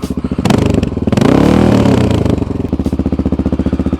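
A Honda XR650L motorcycle exhaust recorded from under the seat, loud and close, thumps out an even single-cylinder idle and swells into a brief rev before settling back to steady rhythmic pulses.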